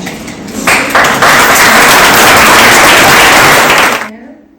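An audience at a Rhythms of India cultural event in Belfast bursts into loud, dense applause that rises quickly, holds steady for several seconds, then cuts off abruptly.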